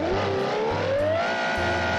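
A modded car with a V12 engine in BeamNG, a loud droning engine note rising steadily in pitch as it accelerates, heard up close with low thumps underneath.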